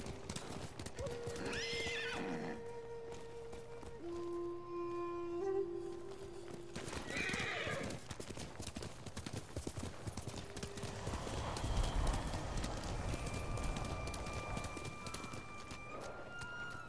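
Steady clip-clop of a horse's hooves from the video game Ghost of Tsushima runs throughout, with whinnies rising above it and faint background tones.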